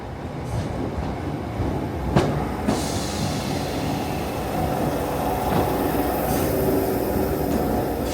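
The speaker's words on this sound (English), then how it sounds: "I'm waiting here for the 10:29 ScotRail service to the next station, Mount Florida" A ScotRail passenger train pulls into a suburban Glasgow station bound for Mount Florida, rolling in with low rumble, a few sharp clanks and a faint wheel squeal, growing steadily nearer and louder.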